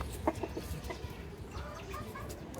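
Soft, scattered clucks from a rooster over a steady low rumble of outdoor background noise, faint and somewhat distant.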